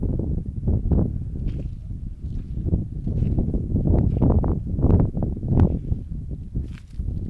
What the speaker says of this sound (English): Too windy here.